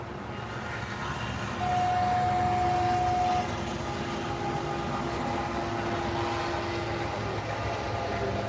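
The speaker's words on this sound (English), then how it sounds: "I'm pointing the camera towards the train." A train passing nearby, a steady rolling rumble of rail cars throughout, with a brief sustained horn-like tone sounding partway through and no talking.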